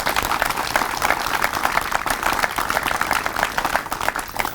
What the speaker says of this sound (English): Round of applause for the project team.